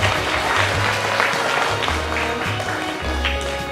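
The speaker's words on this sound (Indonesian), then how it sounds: "Tepuk tangan untuk kita semua." Dense, steady applause from an audience at a children's Sunday school Christmas celebration in a church in Merauke, filling the whole stretch at close range with a low hum beneath it and no one speaking.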